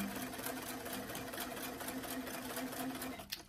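Sewing machine stitching a quarter-inch seam on a doll garment at a stitch length of 2.5 to 3, one short continuous run, close and steady, with no talking.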